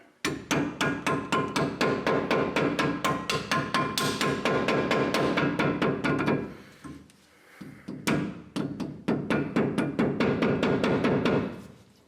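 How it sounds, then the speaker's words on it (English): A rubber mallet taps brake pad slides into place on a Ford F-series rear brake, delivering rapid, evenly spaced close knocks in quick bursts, with a short pause partway before the tapping resumes. "And this is why I say a rubber mallet."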